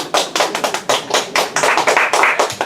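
A church congregation claps in a rhythmic, fairly loud series of sharp, evenly spaced beats, about three or four per second, close and without voices.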